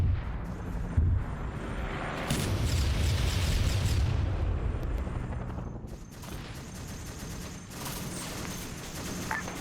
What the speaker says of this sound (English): There's more mortars